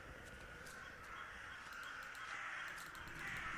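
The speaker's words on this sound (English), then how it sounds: "Alright, there's the crows." Crows caw in a dark pixel-art horror game set near the sea. Several faint, distant calls sit over a steady hiss of wind or surf.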